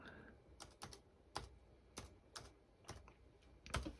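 Keys clatter on a Dell laptop keyboard in separate, irregular taps and short bursts, close and fairly quiet, with a few sharper presses near the end.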